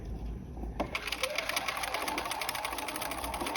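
A sewing machine stitches through thick layers of a collar and lapel facing, its needle running in a fast, even, close-up chatter that continues for several seconds.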